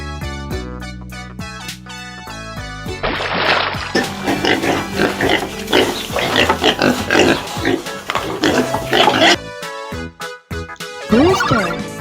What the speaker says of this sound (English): piggy,